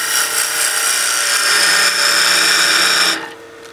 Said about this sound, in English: We'll do a peel cut to get our tenon.